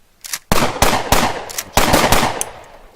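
Several loud, close gunshots from a first-person shooter demo built in the Leadwerks engine ring out in a quick irregular string, each shot trailing a brief echo.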